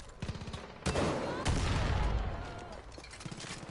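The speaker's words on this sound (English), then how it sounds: "Oh shoot, be shot at by someone. It's probably a heavy gunner." Bursts of rapid gunfire from a heavy gunner in the video game Far Cry 5, loud sustained volleys with a sharp onset, preceded and followed by short stuttering bursts.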